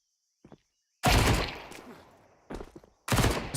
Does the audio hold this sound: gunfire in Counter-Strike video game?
yes